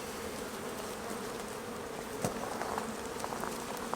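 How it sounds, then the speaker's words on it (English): Honey bees inside an open beehive brood box give a dense, steady buzzing hum close by, with a few faint clicks of frames being handled and no voices. "let's see how the bees are doing"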